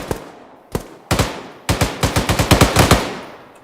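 Gunfire in ArmA video game live-fire training: a few single shots, then a rapid string of about a dozen sharp reports with echoing tails, loud and close.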